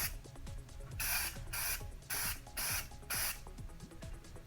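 A spray paint can lays a primary color coat on a Boba Fett style helmet ear module in five sharp, evenly spaced hissing bursts. Faint clicks and handling noises fill the short gaps between them.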